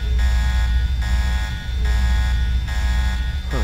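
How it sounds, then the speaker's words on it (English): A Deus Ex alarm drones steadily and loudly with a buzzing, electronic tone, pulsing in regular swells about every second and a half over a low rumble. "Huh, the alarm went off"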